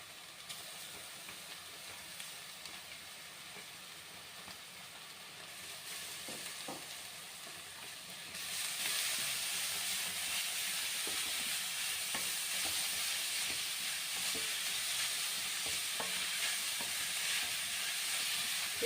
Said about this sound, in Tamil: இப்போ நல்லா வெங்காயம் நல்லா வதங்கிருக்கு இப்போ நம்ம பீட்ரூட்டை போட்டுக்கிறோம்